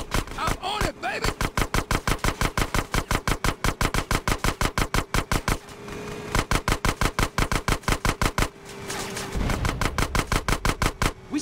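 Rapid bursts of automatic gunfire from GTA San Andreas during a vehicle chase, loud and close, in long rhythmic strings of evenly spaced shots with short pauses between volleys.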